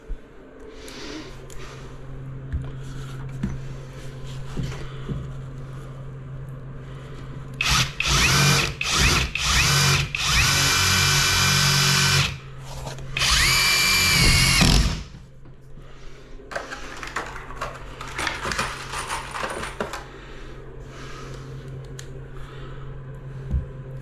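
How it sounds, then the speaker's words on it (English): A power drill drives screws into timber on a steel-frame house, with two loud whining bursts of several seconds each and quieter mechanical handling noises before and after. "that's why I'm screwing the timber in, because it's a little bit tricky to nail"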